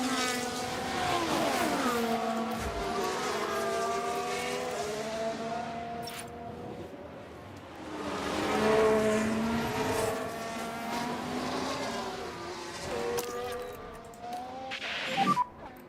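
Formula 1 race car engines in the racing game F1 Manager 24 as one car laps another, a steady high whine that swells into a louder pass and then falls away, under a continuous drone.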